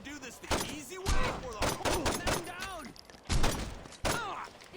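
Bursts of gunfire in the open-world game Saints Row 2, several loud broadband shots and short volleys spread across the scene, with voices talking over them.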